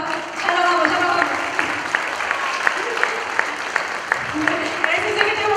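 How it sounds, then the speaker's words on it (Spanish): Audience applause at a school closing ceremony, steady clapping from a seated crowd with scattered sharp claps, while voices and music-like tones carry on beneath it. "otro aplauso"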